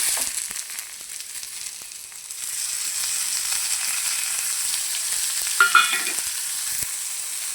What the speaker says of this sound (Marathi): ह्याला आणखी थोडंसं तेल ओतून परतून घेऊया.